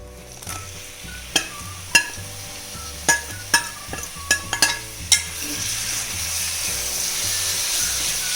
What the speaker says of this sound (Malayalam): ആ മീൻ നമുക്ക് ആ മസാലക്കൂട്ടിലേക്ക് ഇടാം.